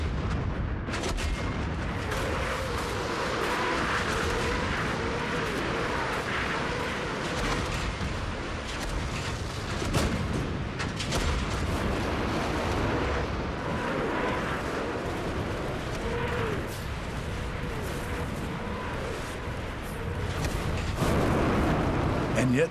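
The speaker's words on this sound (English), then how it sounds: "they unleash their artillery and Katyusha rockets" Second World War artillery and Katyusha rocket fire: a dense, continuous rumble of launches and blasts that is moderately loud and sustained throughout, with a narrator speaking over it.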